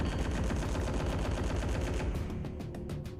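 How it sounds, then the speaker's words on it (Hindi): Dense, rapid gunfire rattles continuously, loud and echoing, with bursts thinning slightly toward the end. "गोली की आवाज़ सुनाई देती है।"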